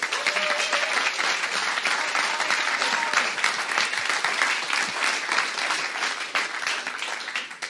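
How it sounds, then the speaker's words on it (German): A large audience at a closing event claps in sustained, dense applause that stays loud and steady for several seconds before thinning slightly near the end. "Ihr klatscht, wenn er euch das sagt, ja?"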